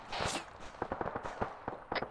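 Gunfire in Arma 3 aimed at a house, a quiet cluster of sharp cracks and pops at an irregular rhythm, several shots in quick succession sounding somewhat distant and faint.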